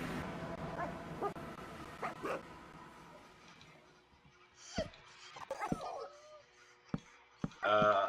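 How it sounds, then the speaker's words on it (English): Dog barks and yips in a Minecraft game, several short sharp bursts in the second half, moderately loud, following quieter stretches of mixed game noise. "Dogs."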